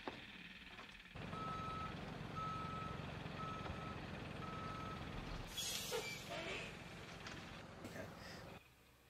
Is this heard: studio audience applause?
no